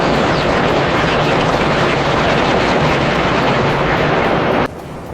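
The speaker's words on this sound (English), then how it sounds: "50 Israeli Air Force fighters accelerate down the runway and lift into the sky." Israeli Air Force fighter jets accelerate down a runway and take off with a loud, dense, continuous roar that drops away abruptly just before the end.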